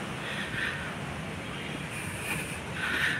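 Cool wind blowing over a scenic hilltop lookout at Tagaytay, a steady broadband rush with gusts buffeting the microphone, swelling slightly near the start and end.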